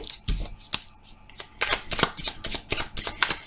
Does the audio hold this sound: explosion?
no